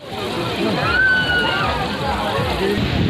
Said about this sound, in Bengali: প্রবল জলরাশি অন্ধকারে কিন্তু সেই জলরাশি একদম তীব্র আকার ধারণ করছে